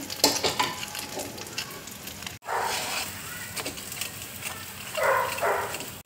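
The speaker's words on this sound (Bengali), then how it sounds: "এবার দেখো শ্যামা চাল বাটাটা দিয়ে দিচ্ছি। এবার দেখো গ্রেট করা আলুটা দিয়ে দিচ্ছি।" Shyama rice paste and grated potato fry in a pan for rice tikki, a close sizzle broken by scraping stirs and a few louder bursts of hissing.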